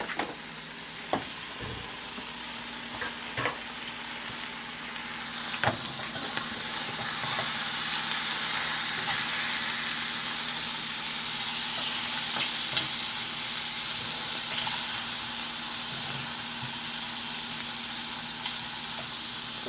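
Garlic browns in a frying pan for a meatball sauce, a soft, even sizzle that runs unbroken with a few faint clicks and no voices.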